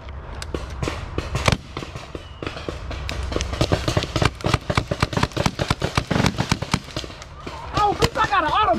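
Paintball guns firing outdoors in rapid, irregular bursts of sharp pops, some close and loud, with people shouting between shots.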